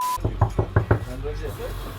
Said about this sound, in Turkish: Sen kapıyı çal kapıyı gelip